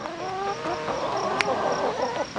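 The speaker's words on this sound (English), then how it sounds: "So I found the chickens" A group of chickens cluck and chatter continuously up close, overlapping calls filling the air with a brief sharp click midway.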